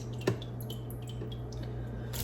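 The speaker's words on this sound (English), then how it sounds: "I'm gonna use my spider here and I'm just going to scoop these out" Soaked lemon pieces are lifted from their soaking water with a spider strainer and tipped into a pot on the stove. A quiet wet squish comes first, then soft drips fall over a low, steady background hum.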